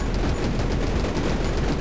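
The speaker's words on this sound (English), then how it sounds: "Explosion." Bursts of rapid gunfire and explosions from the top-down survival shooter 20 Minutes Till Dawn, with a shotgun modified to fire like a machine gun; a dense, continuous, loud barrage of crackling blasts with no talk.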